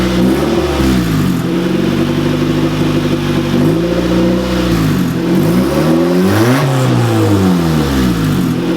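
Turbocharged Honda EG engine revving on its first start, loud and close, with steady idle broken by several rising and falling throttle blips and a rough, wavering tone.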